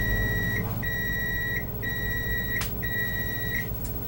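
A kitchen timer beeping while drop biscuits bake in the oven: four sustained electronic beeps in a steady repeating pattern over a low kitchen hum, close and clear, no talking.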